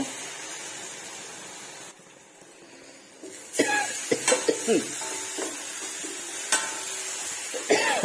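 Onions cooking in a covered pan are stirred after steaming; after a quiet opening, a loud hiss and sizzle rises with spatula scrapes and knocks against the pan, close by.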